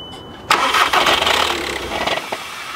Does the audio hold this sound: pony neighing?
no